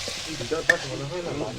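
Meat going into a hot pan and frying as it is stirred, a close sizzle with soft scraping and one sharp clink, moderately loud, no voices.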